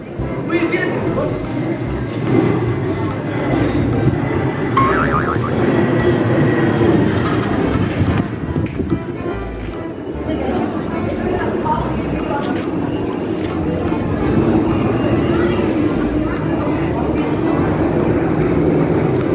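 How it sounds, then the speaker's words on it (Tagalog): An airplane roars overhead in a steady, loud, broadband rumble lasting throughout, with voices talking underneath. "Maingay ang eroplano."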